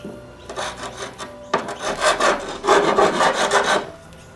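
A hand saw cutting the end off a wooden beehive divider board, in rasping back-and-forth strokes, close and fairly loud, starting in one short burst and then running as a longer sawing run.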